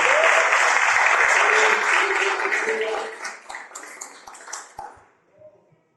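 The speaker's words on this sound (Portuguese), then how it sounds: "aplauda o seu carinho, nosso irmão." A church congregation applauds a visiting brother with loud, dense clapping that thins out into scattered claps and fades away, with voices mixing into the later part.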